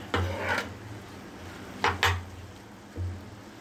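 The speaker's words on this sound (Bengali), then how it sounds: "দিয়ে ভালো করে নাড়িয়ে নিতে হবে" Food being stirred in a cooking pot, with a few separate scrapes and knocks of the spoon against the metal over a faint quiet background, no talk.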